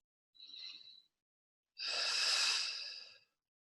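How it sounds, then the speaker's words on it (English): Two slow, deep breaths taken during a relaxation exercise, close to the microphone in a quiet room: a short soft inhale, a pause, then a longer, fuller airy exhale. "So just taking a couple of deep breaths,"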